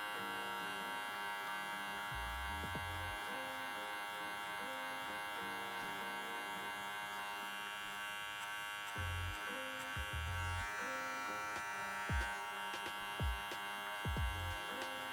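Electric hair clippers fitted with a number 2 guard cutting hair for a low taper, a steady close buzzing hum with brief louder bursts as the blades pass through the hair.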